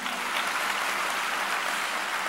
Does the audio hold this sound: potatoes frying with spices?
no